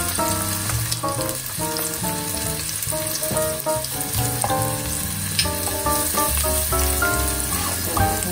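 Garlic and onion sizzling in a pan for a pasta soup, a loud, dense crackle running throughout with frequent stirring clatter and a faint underlying musical tone, no speech.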